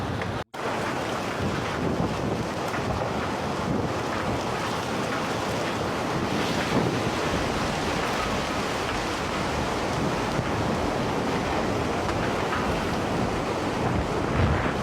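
A dense, roaring wash of heavy rain and floodwater rushing through city streets fills the air, loud and unbroken, with low rumbling underneath.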